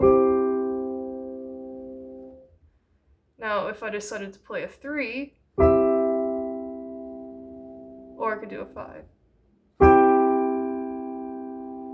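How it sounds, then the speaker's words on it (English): A stringed instrument rings out sustained chords, and single plucked notes sound over them, twice interrupted by someone talking between the strums. "if I was going to play either one of these notes on my stringed instrument"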